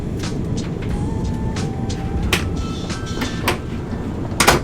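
Inside a first-class sleeper train cabin bound for Bangkok, the carriage rumbles steadily on the rails, with clattering knocks and thin metallic squeals rising over the low drone.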